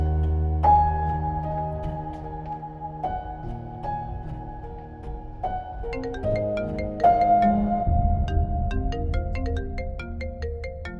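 A phone ringtone plays a steady looping electronic melody for an incoming call, loud and close, with a low synth bass beneath, running continuously with no one speaking.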